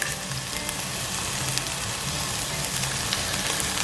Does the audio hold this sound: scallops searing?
yes